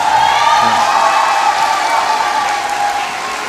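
Steady, dense applause from a large audience at the 20th Nanpa children's song festival. It holds at an even level for the whole stretch with no voices on top, then eases slightly toward the end.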